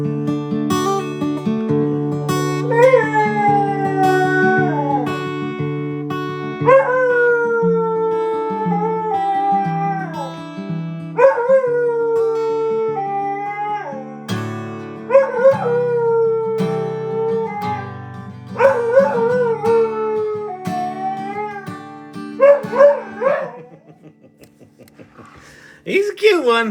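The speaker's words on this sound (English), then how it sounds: "You can't stay mad for long when you have a singing dog in the house." A pet dog howls and sings in long, wavering tones that rise and fall, with repeated drawn-out phrases over about half a minute, close and loud, alone in a quiet indoor room.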